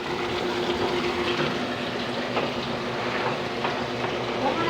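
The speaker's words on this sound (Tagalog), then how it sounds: "Binuksan ko yung drainage ng tangki" Water drains out through the outlet of a water tank in a continuous rushing, gurgling flow, fairly loud and close, with small splashy bursts.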